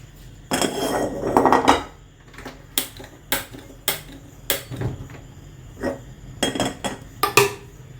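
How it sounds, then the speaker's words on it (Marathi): Metallic clanks and knocks of a wok being set down and shifted on a gas stove for making sugar syrup for kaju katli, several sharp bangs spaced irregularly, close by. "आता मी गॅसवर कढई ठेवणार आहे"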